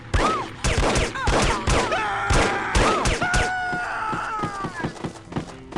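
Sharp gunshots crack out in bursts in the video game No One Lives Forever, loud and close, mixed with a few thuds and a man's groaning cries.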